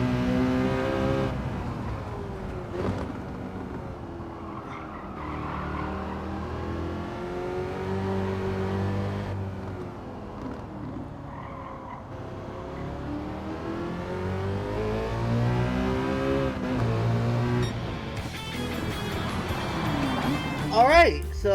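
Engine of a Citroen GT car in Gran Turismo 7, a continuous nearby whine that rises and falls in pitch as the car speeds up and slows through corners, sustained throughout.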